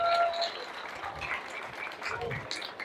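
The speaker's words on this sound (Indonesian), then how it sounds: "Tepuk tangan." A crowd at an Islamic boarding school graduation lecture applauds briefly, faint scattered clapping mixed with room noise and a few murmured voices.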